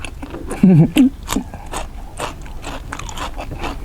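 Close-up crunchy chewing of fermented pork with crisp pork skin, several crisp bites and scraping mouth noises, a low hummed voice briefly over the first crunches.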